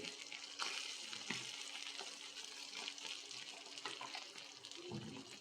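Stuffed eggplant masala with Kashmiri chili powder and salt being sautéed in a pan, a soft continuous sizzle with a few stirring scrapes, faint and close, no talking.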